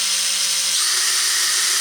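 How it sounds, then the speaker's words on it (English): A power drill whines at high speed, its pitch dropping slightly partway as the bit bites in, loud and close. "drill my holes, and I may need to put a pilot hole in here."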